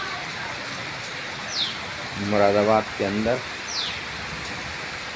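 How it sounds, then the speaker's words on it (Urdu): Heavy rain falls in Moradabad as a continuous close hiss, with a few bird chirps above it and someone speaking briefly in the middle. "بہت اچھی بارش ہو رہی ہے۔"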